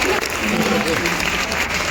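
Dense, loud applause from the audience at an all-India mushaira poetry gathering in Pune, continuous clapping with a voice speaking over it.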